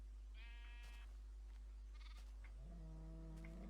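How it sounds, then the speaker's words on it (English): A Minecraft sheep bleats in several clear, wavering calls, one after another, over a constant low hum with no talking. "Oh, it's a sheep actually."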